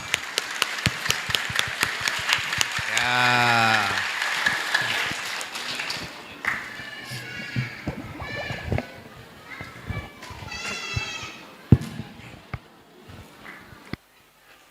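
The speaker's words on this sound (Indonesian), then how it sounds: "Tepuk tangan bersama." Audience at an Al-Qur'an 30-juz memorization pre-exam gathering claps together in a burst of rhythmic applause, followed by children's and adults' voices and scattered taps in a large room.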